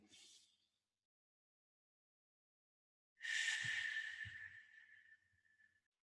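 Deep breathing in a quiet room: a short exhale, a long silence, then a long, airy breath that slowly fades out, close and soft, with no talking.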